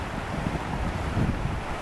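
A mountain torrent rushes beside a hiking trail near Lac de Whitaker on a foggy day, a steady, dense roar of flowing water that fills the scene without pause.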